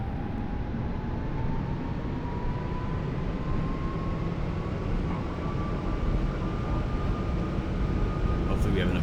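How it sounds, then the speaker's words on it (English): Airplane taking off in X-Plane Mobile, a steady loud engine roar with a slowly rising whine holding throughout, no pauses. "we're gonna go ahead and take off and fly towards those mountains"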